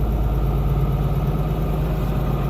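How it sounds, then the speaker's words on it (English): A tractor engine in a farming video game idles steadily, a continuous low mechanical rumble with no pauses or talk. "Now don't hit the wagon with the tractor."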